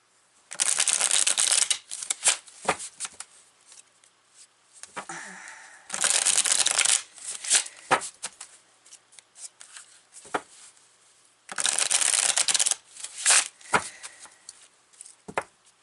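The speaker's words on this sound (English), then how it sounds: "So we're going to pull some tarot cards from" Tarot cards from a Zerner-Farber deck being shuffled in several loud, crisp riffling bursts, separated by softer handling and card taps.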